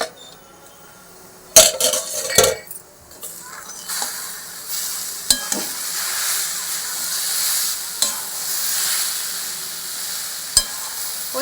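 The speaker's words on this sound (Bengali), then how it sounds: "হালকা গ্যাসে করে কমিয়ে দিয়ে তারপরে নেড়ে নেবো" Cooked lentils for motichur laddu sizzle in a pan on low heat while a spoon scrapes and stirs, with several sharp clanks against the metal over a steady frying hiss.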